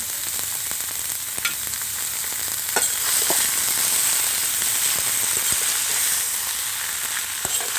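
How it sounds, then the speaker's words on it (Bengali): Shrimp with pointed gourd and spice ingredients fry in a pan for a mashed bhorta, a loud, steady close-up sizzle with scattered crackles and a few brief utensil scrapes, no talking. "আর দিয়ে দেবো চিংড়ি মাছ সবগুলি উপকরণ একটু লাচে লাচে করে ভেজে নেব"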